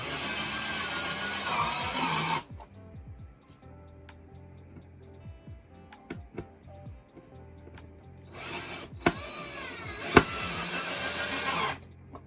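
A power drill whines in two loud bursts as it drives screws into a wooden foot stool, with ratcheting clicks and light knocks on wood in the quieter gap between.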